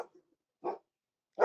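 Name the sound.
dog barking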